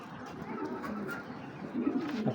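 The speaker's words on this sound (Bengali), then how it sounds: "ওর সাথে আমি একটা মাদি কবুতর ছাড়ি" Pigeon cooing from racing pigeons, including a paired female black checker hen, soft low murmuring coos repeating steadily close by with a louder burst near the end, no voices.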